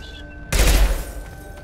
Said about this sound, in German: Was ist das für eine Pistole, ey? Die geht hier richtig ab. Dauerfeuer.